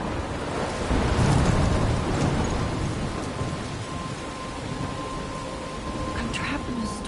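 A storm of heavy steady rain, with a low thunder rumble swelling early and faint crackles later, loud and close throughout.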